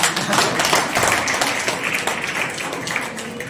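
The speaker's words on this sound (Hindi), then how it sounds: "एक बार मेरी ताली बजा दो भाई" An audience claps at an International Women's Day event held by Mewar Jan Shakti Dal at Magnus Hospital. The clapping is a dense, steady patter from many hands, fairly close, lasting the whole moment with no pause.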